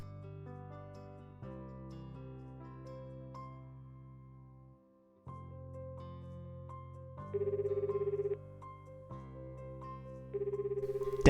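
Cell phone ringtone in a Japanese visual novel scene, a looping electronic melody of bright synthesized tones in repeating phrases with a short gap midway, clear and alone without talk.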